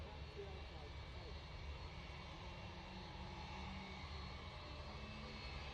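Aircraft engine spinning up at Manchester Airport, a steady distant roar with a faint whine that holds for several seconds under continuous wide outdoor airport noise, and a voice talks faintly over it.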